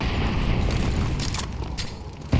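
Grenade blasts in a Counter-Strike match: deep booming rumbles with bursts of higher crackle layered over one another, loud and continuous, ending in a sharp final thump.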